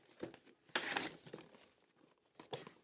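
Headphone box packaging crinkles and tears in short bursts as it is cut open and unwrapped, close and quiet, with one louder rustle and a few scattered crackles.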